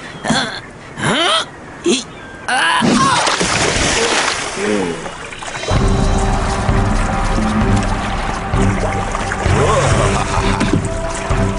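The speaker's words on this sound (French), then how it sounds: "Oh, j'adore faire des vagues. On se croirait presque à la mer." Water splashed by hand or body to make waves on an island challenge set, with people talking in French over choppy sloshing and splashes that grow into a steadier wash in the second half.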